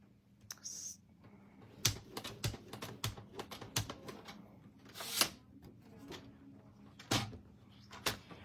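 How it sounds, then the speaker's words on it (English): A paper trimmer's score blade is run along a card base, giving a series of sharp clicks and scraping knocks close up, with a few louder snaps spaced irregularly. "I love this trimmer because it has this score blade in there as well. So we're just gonna score that to create our card base"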